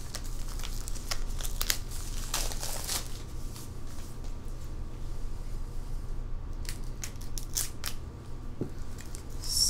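Plastic shrink-wrap being cut and peeled off K-pop albums, close crinkling and crackling with repeated sharp snips in the first few seconds, then steady rustling handling throughout, no talking.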